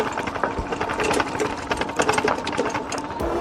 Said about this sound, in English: Noises being chain slap, big time.